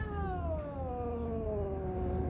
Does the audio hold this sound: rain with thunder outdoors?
no